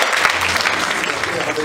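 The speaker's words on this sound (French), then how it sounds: "Applaudissements pour Juliette." An audience at a clothing-store fashion show in Olonne-sur-Mer claps for a model on the runway. The applause is dense and continuous, loud and close, throughout the brief moment.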